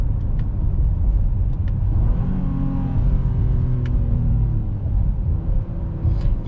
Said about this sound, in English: put it in sport mode and see how this Pilot sounds